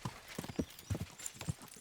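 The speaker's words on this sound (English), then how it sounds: "I'm gonna ride my horse" Horse hooves clip-clop in the video game Kingdom Come: Deliverance II, a few quick, uneven hoofbeats starting to trot, close but fairly quiet over a faint background.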